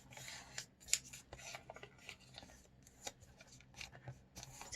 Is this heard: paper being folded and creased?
yes